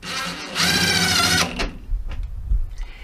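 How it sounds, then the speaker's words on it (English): DeWalt hydraulic impact driver running in screw mode gives a steady, loud mechanical whir for about a second, then cuts off abruptly, leaving quieter low handling noise. "let's have a look at the screw mode on this DeWalt"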